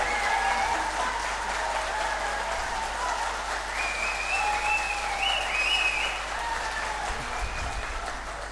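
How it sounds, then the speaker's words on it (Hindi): A crowd at a company's 17th anniversary celebration applauds loudly and continuously, with a few voices calling out over the sustained clapping. "जोरदार तालियां, और तेज, और तेज तालियां, और तेज होनी चाहिए साथियों,"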